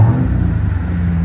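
A 2021 Jeep Trackhawk's engine idling with a steady low rumble through a Borla Pro-XS exhaust, a deep, smooth, continuous drone close by.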